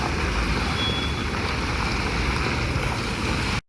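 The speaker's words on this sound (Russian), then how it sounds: "Вот пока так едут машины." Steady, close traffic rumble and tire hiss as cars drive along a city street under repair in Yakutsk, a continuous broadband wash with no break until it cuts off at the end.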